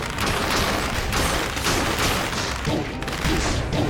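Cannon fire in the action game Dead Cells, a dense barrage of booming blasts and crackling impacts packed tightly together, loud and continuous with no talking.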